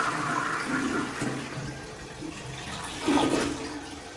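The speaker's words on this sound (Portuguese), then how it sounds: "Descarga." A toilet flushes in a newly built home during a move-in inspection, with a steady rush of draining and refilling water for about four seconds that swells briefly near the end.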